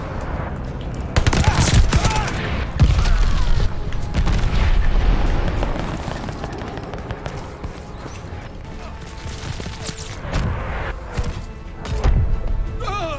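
Call of Duty Vanguard combat with bombing-run explosions and heavy gunfire: booming blasts and rapid bursts of shots pile up densely for over a dozen seconds, with a voice speaking intermittently amid the din.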